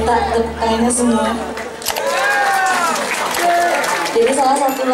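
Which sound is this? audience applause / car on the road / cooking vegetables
audience applause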